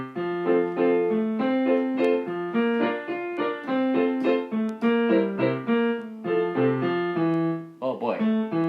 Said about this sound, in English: This is a short piece by Robert Schumann it's called From the Album of the Young